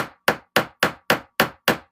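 Seven sharp hammer strikes in an even, quick rhythm, each a crisp close knock that decays fast, with no voices over them.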